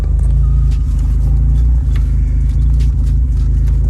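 A Mazda Miata engine idles steadily nearby, a loud, low, continuous rumble with no voices over it.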